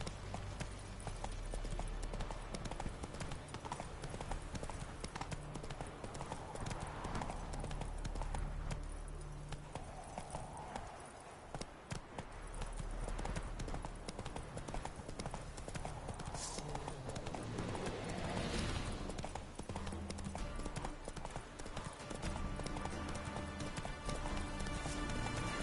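The horse Roach trotting in the video game The Witcher 3, a continuous rhythmic clip-clop of hooves under a bed of ambient game sound, with a voice speaking briefly.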